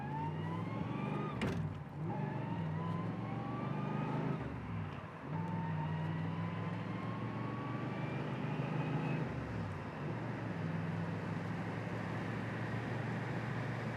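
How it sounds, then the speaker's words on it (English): A 1983 Chevrolet Camaro Z28 with a 305 engine accelerates hard through several gears, its engine note rising and dropping at each shift as a steady loud drone with no talking. "so 305, so let's just bang it through a few gears here"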